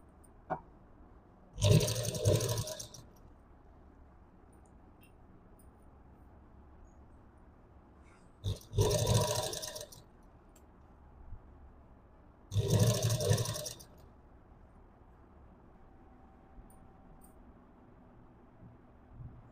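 A sewing machine stitching piping on a child's blouse neck made from an old sari, running in three separate short bursts of whirring with quiet pauses between, close by and with no talking.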